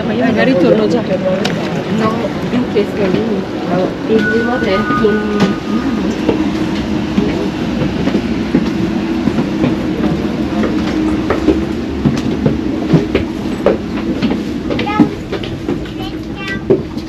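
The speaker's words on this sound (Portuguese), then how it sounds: "agora estamos dentro do trem no sentido Milão Central" Rumbling interior of a moving train headed to Milano Centrale in Italy, with a steady low roar, faint rail clicks and occasional squeaks throughout, while people talk over it.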